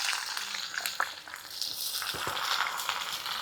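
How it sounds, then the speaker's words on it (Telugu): Onions frying in ghee in a pan, giving a steady soft sizzle with occasional stirring clinks and scrapes, fairly quiet and close, with no one talking. "పెద్దలపాయలు తీసుకొని వేయించుకుందామండి"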